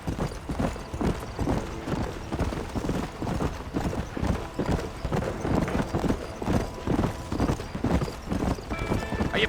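Horse hooves clip-clop at a steady rhythmic trot in the western video game Red Dead Redemption, with a brief whinny near the end, close and clear, no talk.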